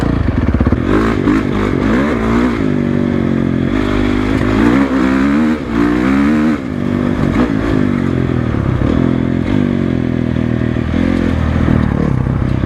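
A 2012 Honda CRF450 dirt bike engine revs loudly and continuously close by, its throttle rising and falling in repeated surges with a rough mechanical clatter throughout.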